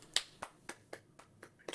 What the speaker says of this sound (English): Golf clap. Golf clap. Golf clap.